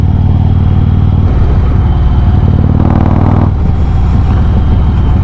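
A 2020 Harley-Davidson Road Glide Special with a Stage 2 114 engine, ridden in cold weather, pulls hard under acceleration with a loud, deep, continuous engine roar close by as it climbs through the gears.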